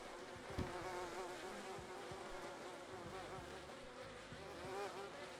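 Honey bees drone continuously in the video game DayZ, a dense, even swarm buzz that holds steady throughout with a slight swell near the end, no talk.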